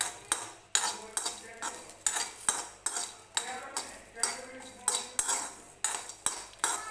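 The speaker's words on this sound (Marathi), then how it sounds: "मिरची वगैरे व्यवस्थित भाजून घ्यायचं आहे आपल्याला असंच" Chillies, garlic, ginger and coconut are dry roasted in a pan for a Khar vang recipe, with repeated sharp clinks and scrapes of a metal spoon stirring against the pan at a quick, regular pace.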